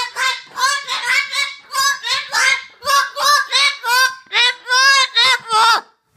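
A cockatoo imitates a rooster's crow indoors in an apartment, giving a quick run of loud, close, honking squawks in rhythmic bursts with brief gaps, with no one talking.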